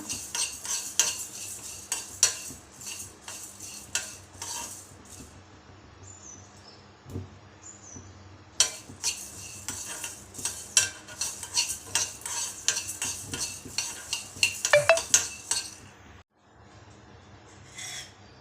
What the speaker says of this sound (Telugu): 1 స్పూన్ జీలకర్ర, కొద్దిగా ఫ్రై చేసుకుందాం లైట్గా